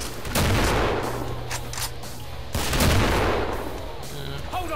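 Rapid bursts of gunfire in the co-op shooter Killing Floor, loud and close, with two heavy volleys separated by a brief lull and a steady rattle of shots in between, under faint background noise.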